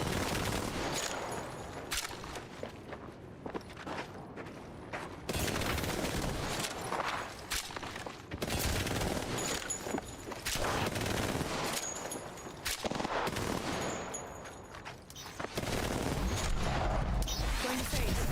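Constant automatic gunfire in Apex Legends, dense bursts and rapid shots crowding the whole stretch with brief dips between volleys, loud and close.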